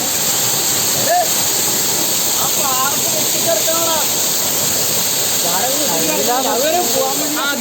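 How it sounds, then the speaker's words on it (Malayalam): A loud, steady roar of a waterfall fills the scene, with voices talking and calling over the constant rushing noise. "ഇതിന്റെ വെള്ളച്ചാട്ടത്തിന് ഭയങ്കര സൗണ്ടാണ്"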